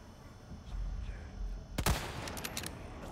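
A burst of gunfire from the Resident Evil 4 Remake video game: a few sharp shots crack close together midway, over a low rumbling game backdrop, followed by fainter clatter.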